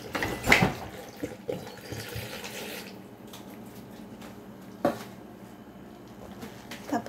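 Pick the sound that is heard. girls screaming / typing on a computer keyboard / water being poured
water being poured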